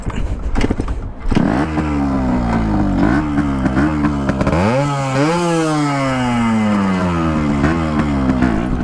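A Yamaha RX two-stroke motorcycle engine running after a full restoration, loud and close, revving up and down with a raspy, buzzing drone that rises and falls continuously.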